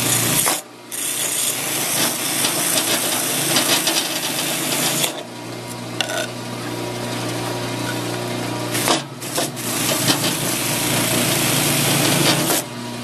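A steady whirring sanding mop grinds and rasps against a wooden sign, with brief pauses and changes in pressure throughout.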